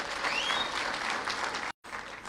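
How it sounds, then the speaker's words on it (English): Steady applause from a crowd at a groundbreaking ceremony for the Menengai geothermal project fills the room, clapping continuously with a brief dropout near the end. "Another hearty clap for the CEO GlobalEC"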